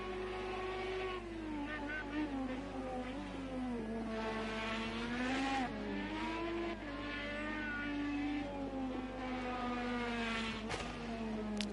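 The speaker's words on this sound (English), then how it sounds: "Oh, dear me, that engine does not sound healthy." An IndyCar engine in Project Cars 2 at the Indianapolis road course holds a steady, strained drone that wavers in pitch, sounding rough and unhealthy, with brief surges near the end.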